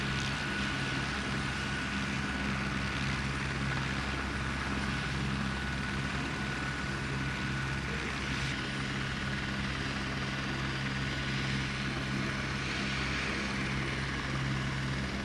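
A helicopter flying over a tribal village in New Caledonia: a continuous engine and rotor drone at steady, moderate loudness, holding for the whole stretch without voices.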